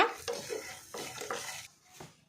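A spoon stirs egg masala in a pan as turmeric powder is mixed in and fried, giving several short scraping strokes over a faint sizzle.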